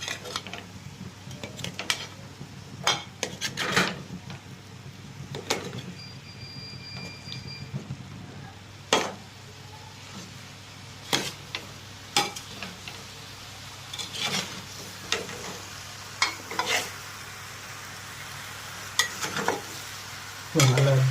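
Jackfruit aviyal is stirred in a hot pan with no water. A spoon scrapes and knocks in irregular strokes over a faint, steady sizzle.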